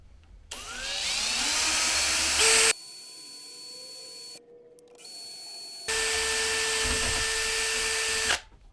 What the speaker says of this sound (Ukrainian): Зараз спробуємо посверлити метал.